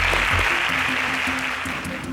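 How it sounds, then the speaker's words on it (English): Studio audience applause for a departing contestant on an agricultural science quiz show, a steady wash of clapping that holds for about two seconds over a faint low tonal bed. "Can we get a round of applause for him?"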